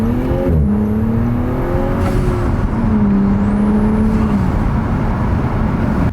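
Audi S5/S4 B9 engine fitted with a CTS cold air intake, a steady close, loud engine drone with pitch rising and falling as it revs, continuous and without talk.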